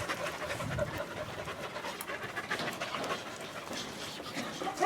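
A young, very lively black female dog pants rapidly and steadily at close range, with a faint whimper breaking through the quick breathy rhythm and no talking.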